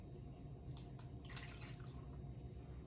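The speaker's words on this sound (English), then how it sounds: "I'm going to put a cup of water into the pan." A cup of water trickles and splashes into a pan, a steady pour with a few drips, fairly quiet over a low background hum.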